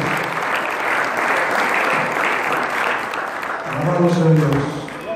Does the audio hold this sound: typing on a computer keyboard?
no